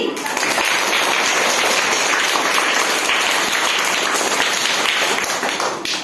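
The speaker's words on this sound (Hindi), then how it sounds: "बड़ा ताली।" A classroom of schoolchildren clapping together during a paper-craft activity, dense loud applause sustained across the whole stretch, with a slight fade at the end.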